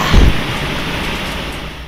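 Heavy rain is a loud, dense, continuous hiss with a brief low thump near the start and no voices.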